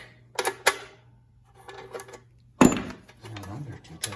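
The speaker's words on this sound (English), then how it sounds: "So I'm gonna loosen all these bolts around here." Wrench or ratchet loosening four bolts on a pull starter housing during a broken rope and handle repair, heard as a few sharp metallic clicks and clanks at intervals, with a louder clunk near the middle against a faint steady hum.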